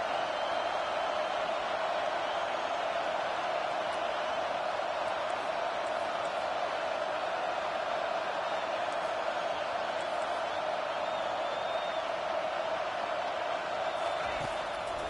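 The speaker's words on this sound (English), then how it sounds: "Decibels rising as the crowd gets behind this defense on third down." A stadium crowd at a football game roaring steadily behind the defense on third down, a dense sustained wash of noise with a commentator talking over it.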